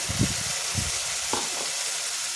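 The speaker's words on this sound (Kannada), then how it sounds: "ಈಗ ಒಂದೇ ಒಂದು ಟೊಮೆಟೊ ತೊಗೊಂಡಿದ್ದೀನಿ ಅದನ್ನು ಹಾಕ್ತಾ ಇದ್ದೀನಿ" A tomato drops into onions frying for a simple chicken gravy, bringing a loud close sizzle with a few bursts of crackle and stirring over a continuous hiss.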